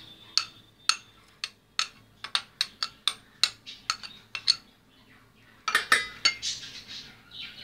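A spoon clinks against a bowl while ragi flour and coconut are mixed, a series of sharp, close metallic taps in an uneven rhythm, with a short pause before a final burst of clattering.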